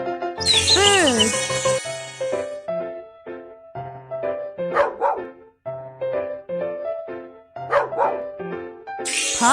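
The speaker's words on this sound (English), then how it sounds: "Puppy." Cartoon puppy barks and yips during a hearing test, several bright squeaky calls spread through the clip, the loudest near the start, over a bouncy musical background.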